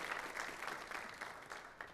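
A congregation applauding during a Catholic Mass in a church: a continuous, fairly faint wash of many hands clapping, heard at a distance, steady for the whole stretch.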